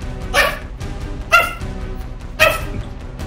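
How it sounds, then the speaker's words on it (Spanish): A dog barking three times in short, evenly spaced yips, close and fairly loud, with quiet background in between. "Pero tú, ¿por qué estás ladrando tanto?"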